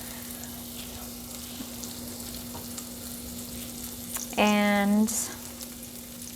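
Lectin-free plant-based pad thai sautéing in a pan, a steady soft sizzle with a brief tonal squeak or beep over it, and a single spoken word.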